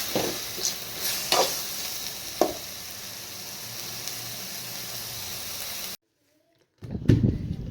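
Maanthakali greens sizzle and crackle in a pan as they sauté, with scraping stirs, then briefly cut to silence before a clattering stir resumes.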